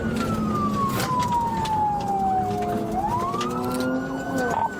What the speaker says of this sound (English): Sirens and lights are active, failing to yield.